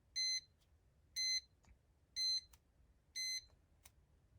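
A Nintendo Game & Watch Chef widescreen handheld sounds its alarm as four short, bright electronic beeps evenly spaced about a second apart, with small clicks between them in an otherwise quiet room.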